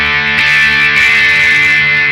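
Electric guitar played through a Charlie Brown overdrive pedal, loud and continuous, with a fuzzy, broken-up distortion sustaining chords throughout without pause.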